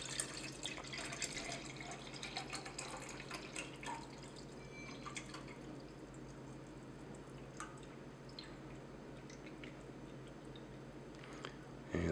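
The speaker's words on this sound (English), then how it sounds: "I'm going to fill up the graduated cylinder to make up a total volume of" Tap water trickles and drips into a graduated cylinder at a quiet darkroom bench, faint splashes and drips scattered over a low hum.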